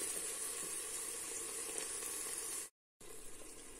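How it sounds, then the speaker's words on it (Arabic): Onions and peppers sauté in a pan, giving a steady, close sizzle and crackle that cuts out briefly and then resumes. "نزلت بالبصل بعد ما شميت ريحه الفلفل، واديني بشوحهم مع بعض"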